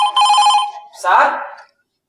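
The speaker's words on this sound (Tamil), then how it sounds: "சார் சார் போன் அடிக்குது சார்." A telephone rings indoors, two loud, close bursts of bright electronic ringing separated by a brief gap before falling silent.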